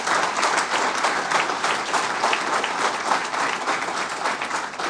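Dense, sustained audience applause for fire rescue instructors at a pinning ceremony, loud and even throughout, a thick wash of many hands clapping with no voices above it.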